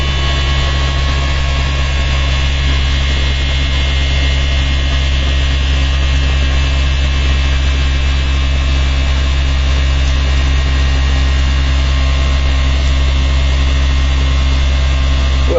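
A Bubbleator motor with staggered coils and phase overlap spins at about 4,000 RPM, giving a loud, steady electrical hum with layered tones that holds nearly constant throughout.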